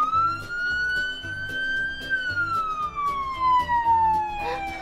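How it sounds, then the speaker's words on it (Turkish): Police siren triggered by a button on a toy or display panel, a loud electronic wail sweeping slowly up then down over a steady rhythmic pulsing beat, close and continuous for about five seconds. "Evet, bu siren."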